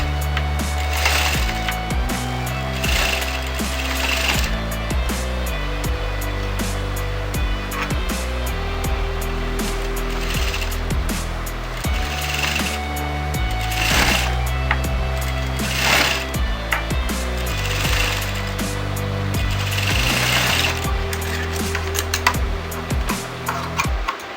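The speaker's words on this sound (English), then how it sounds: "And I'm going to put a top stitch so that it turns nice and easy." Domestic sewing machine top-stitching a boat neck blouse with princess cut seams, running in steady mechanical bursts with a rhythmic ratcheting whir throughout, close and fairly loud, with no talk.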